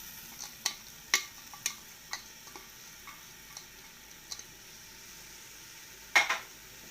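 Onions frying in oil in a pan while a sauce is being prepared for chicken with olives: a steady soft sizzle runs throughout, punctuated by sharp, irregular clicks and taps of a utensil stirring, with one louder scrape near the end, no talking.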